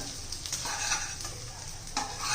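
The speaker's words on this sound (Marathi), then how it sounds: "आता ते व्यवस्थित जरा हलवून घेऊया." Egg chilli fry is stirred in a hot pan, with close spatula scrapes and shuffles over a bright, continuous sizzle of oil.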